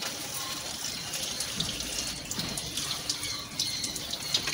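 Tap water runs steadily while a doll's hair is washed with shampoo and lather, a continuous close splashing stream with light irregular spatters.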